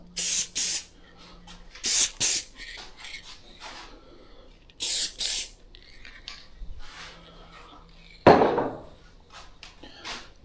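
Short hissing bursts of spray paint from an aerosol can come in separate blasts onto a whitetail deer mount, with clattering handling noises and a final longer spray.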